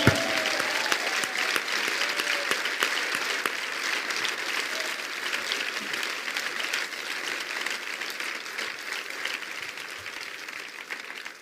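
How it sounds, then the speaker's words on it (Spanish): A church congregation applauds during a sermon, a steady, dense wash of clapping that fills the room and carries on evenly for several seconds. "Póntale un aplauso a Dios, hermano."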